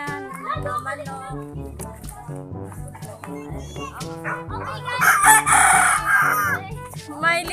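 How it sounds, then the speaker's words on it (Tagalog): Rooster crowing loudly midway on a farm, with chickens clucking around it and people chatting throughout. "Ayan, mga manok."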